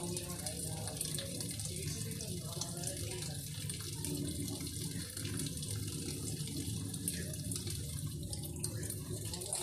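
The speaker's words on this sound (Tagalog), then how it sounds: "Medyo mahina po yung ating tubig mga kaguro, kaya matagal po." Weak, low-pressure tap water runs steadily into a basin, a continuous hissing splash with faint background murmur.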